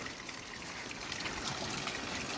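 Water pouring while a mountain frog is prepared for cooking, a soft, steady trickling stream heard faintly and continuously, with no talk over it.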